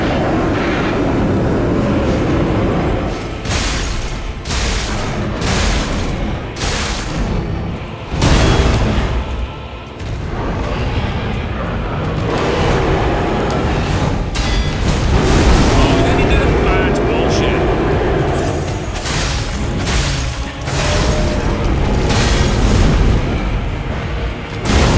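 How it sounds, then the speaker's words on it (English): Thrown bombs bursting in the game Lies of P, repeated loud booming blasts over a dense, continuous roar of game sound, with a voice talking throughout. "Throwing the bombs lights them on fire"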